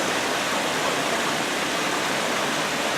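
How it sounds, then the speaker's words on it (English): Waterfall feature outside a restaurant at Disney's Animal Kingdom Lodge, heard as a steady, dense broadband rush of falling water, loud and continuous with no voices. "We have a really nice waterfall feature out here."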